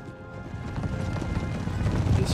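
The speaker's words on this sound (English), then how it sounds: "The Lancers are charging" Rapid clip-clop of many cavalry lancers' hooves pounding in a charge in Empire: Total War, growing louder, with a rumbling low-end and clattering over it.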